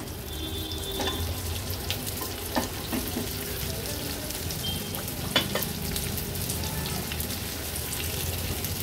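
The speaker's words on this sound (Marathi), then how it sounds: "आता आपण ही कारली ह्या तेलामध्ये सोडूया." Bitter gourd (karela) pieces fry in about two spoons of oil in a pan on a gas stove, giving a continuous close sizzle with occasional clinks and stirring scrapes.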